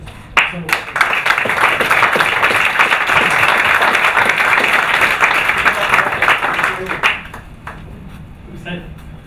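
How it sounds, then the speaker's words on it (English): Audience at an accelerator demo day gives the mentors a big round of applause, dense steady clapping for several seconds that tapers off near the end, with a few scattered claps trailing. "I have to really give a huge round of applause to all of our mentors"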